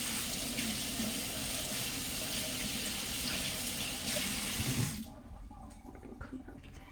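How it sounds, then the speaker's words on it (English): Kitchen tap runs steadily as hands are washed under it, a close continuous hiss and splash for about five seconds before it shuts off to near quiet. "let me wash my hands for a second"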